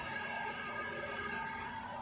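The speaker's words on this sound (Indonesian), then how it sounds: "Bisa kita dengar samar-samar armada pemadam kebakaran sudah melintas di Jalan Lanto Denpasewang menuju ke lokasi kebakaran." Fire engine sirens wail faintly and steadily in the distance as the trucks pass along a city street in Makassar toward a burning building, with no one speaking.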